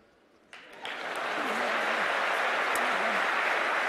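A keynote audience at a comedy talk breaks into applause, starting with a few scattered claps and quickly swelling into full, sustained clapping that holds loud to the end.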